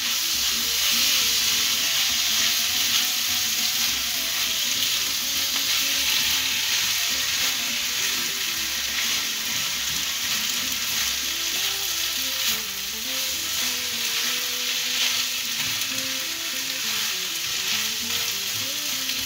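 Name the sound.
peppers frying in a pan with spicy tikka sauce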